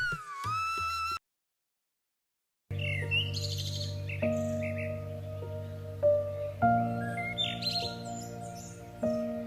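Bright chirps and whistles from a red parrot ring out over a steady low background tone, a few short calls spread across the clip.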